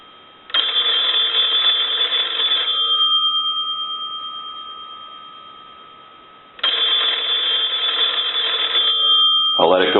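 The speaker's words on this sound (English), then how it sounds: "we'll go ahead and start a ring cycle. We're going to let that go a few times" A wooden Sumter wall telephone's bell rings during a ring-cycle test, two loud sustained metallic rings of about two seconds each separated by a pause, with a faint click at the end.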